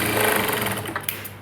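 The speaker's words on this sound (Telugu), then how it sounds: "ఇలా ఓపెన్ చేసేసుకుని ఒక టాప్ స్టిచ్ వేసేసుకోవాలి." Sewing machine top-stitching blouse fabric, a loud, close, steady whirring hum of fast needle strokes heard alone with no talk.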